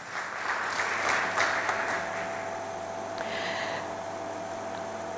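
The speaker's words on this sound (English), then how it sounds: "So let's give them a round of applause" Audience at a 2020 graduation ceremony applauding two past students, a soft, distant, steady wash of clapping that slowly fades, with no voices over it.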